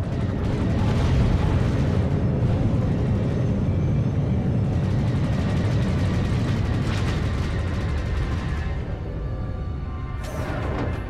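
Missile launches and explosions in a naval combat video game, a dense, continuous roaring barrage of booms and blasts at steady high loudness throughout, with a sharper burst near the end.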